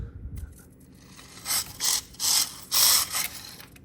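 Rough, buzzy whirring of a 1/43-scale mini RC drift car's small electric motor and gears in several short revving bursts, loud and close, with a low rumble underneath.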